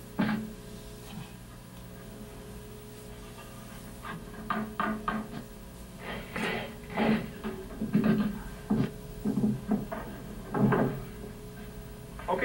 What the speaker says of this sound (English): Now we can just hang the door.